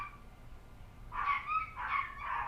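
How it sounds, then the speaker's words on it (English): Yorkie dogs yip and whimper in three short bursts of high-pitched barking, moderately close but not loud, over a quiet room. "Pardon the dogs if you can hear them."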